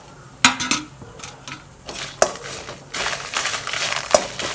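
About fifteen dried red chillies with curry leaves and garlic are dry-roasted in a pan, producing irregular rattling, scraping and knocking of a spatula against metal with sharp clacks, loud and close, with no talking.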